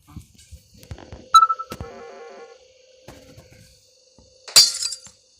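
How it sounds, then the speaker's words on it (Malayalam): Glass breaks in the video game Garten of Banban 2 with a sharp, bright crash near the end, after scattered clicks, a tonal chime and a warbling electronic sequence. "നമുക്കിന്നെ ഗ്ലാസ് പൊളിക്കണം."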